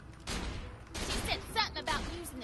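Gunfire in the Borderlands 2 video game comes in several short, sharp bursts at moderate level, mixed with game sounds and what seems to be a voice in the background.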